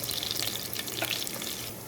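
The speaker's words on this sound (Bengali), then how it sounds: "এখন আমি রসুনের বাগার দিব।" Chopped garlic sizzles in a spoonful of hot oil as a tempering for a small-fish sour curry, making a steady, close, moderate crackling hiss with no voices.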